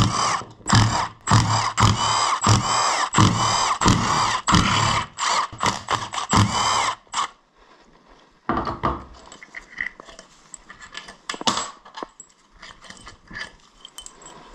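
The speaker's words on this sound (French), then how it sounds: "là c'est clé à choc à fond" An impact wrench at full power undoing 10 mm engine case screws on a Honda Zoomer 50, loud rapid hammering bursts close by for about seven seconds, then quieter clinks and shorter rattling bursts while parts are handled.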